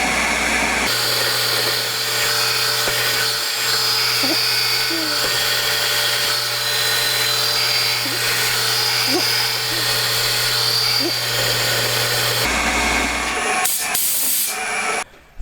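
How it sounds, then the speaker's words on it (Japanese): A steady, loud machining drone from a center drill cutting metal, with a constant low hum and hissing coolant, punctuated by faint clicks, running continuously before cutting off near the end. "センタードリルが終わったので"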